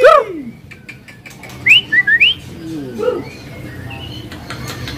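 Songbirds at a bird market sing nearby, with a sharp descending call at the start, then a quick series of bright whistled phrases and lower warbles over a busy background of market noise.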